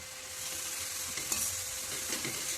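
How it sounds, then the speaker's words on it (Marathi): Grated carrot frying in ghee, a close, steady sizzle with soft stirring scrapes, no voices. "लगेच एक ते दोन मिनिट आपल्याला हा गाजराचा किस तुपात परतून घ्यायचा आहे"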